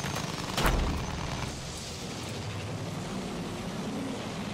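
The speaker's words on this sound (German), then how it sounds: "Flugzeug in Sichtweite!" An airplane flying in the video game Air Assault gives a steady, broad roar, with a brief heavy thump near the start, then a sustained even rumble with no speech.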